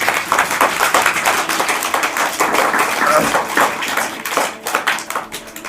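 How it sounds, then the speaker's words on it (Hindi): Schoolchildren clapping in a classroom for a student who answered a question, a brisk scattered patter of many hands filling the room, fairly loud and close throughout. "तो मीनू के लिए बजनी चाहिए ना तालियां।"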